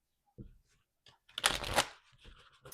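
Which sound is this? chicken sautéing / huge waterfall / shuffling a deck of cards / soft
shuffling a deck of cards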